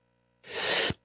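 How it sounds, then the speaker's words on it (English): A single sharp human sneeze bursts out after a moment of silence, loud and close, with a breathy hiss ending in an abrupt cutoff. "I need to sneeze."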